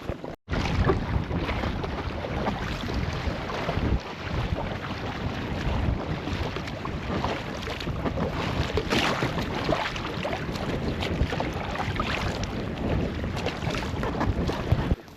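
Boat travelling across a lake in Lapland, a steady loud rush of water and wind buffeting the microphone throughout, with no voices.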